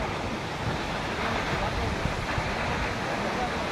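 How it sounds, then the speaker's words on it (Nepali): Fungfungey waterfall in Taplejung, eastern Nepal, running with reduced dry-season flow, gives a steady, dense broadband rush of falling water that stays constant and close throughout. "झरना"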